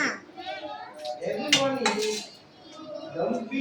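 Dishes and a plate handled at home, with clattering, scraping clinks of metal and crockery coming in short bursts, close by, while people, including a child, talk over them.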